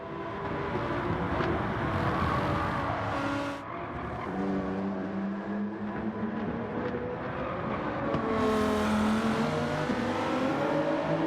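A Gran Turismo 7 race car, a Supra, pulls out of a corner with a loud, sustained engine drone whose pitch climbs and falls as it accelerates, with another car nearby.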